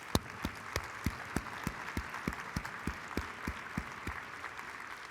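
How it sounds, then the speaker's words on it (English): Steady rhythmic clapping from a conference audience for a colleague at a keynote session, with sharp, evenly spaced claps about three per second over a low room hum. "let's give another round of applause to our colleague"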